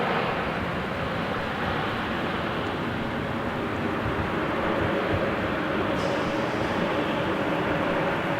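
A China Southern Boeing 787 Dreamliner at Melbourne Airport makes a steady, broad jet roar that holds at an even level for several seconds, heard from some distance with no voices.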